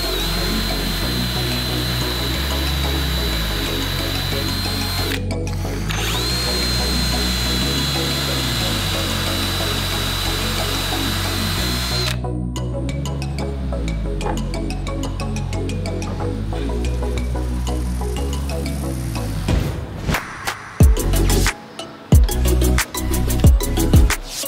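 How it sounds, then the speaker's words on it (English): A power drill boring into walnut, whirring steadily, its motor pitch dipping and recovering in repeated cycles, with clattering, knocking sounds near the end. "now I can just go ahead and drill on my piece of walnut"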